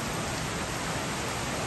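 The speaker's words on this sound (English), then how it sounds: "since it's pouring rain" Heavy rain pours over a field of large vetiver grass clumps, making a dense, steady hiss that stays unbroken throughout the short stretch, with no voices.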